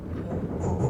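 An Amtrak Starlight passenger train rumbles steadily across a river bridge, a loud, continuous low roar heard from on board with no talk.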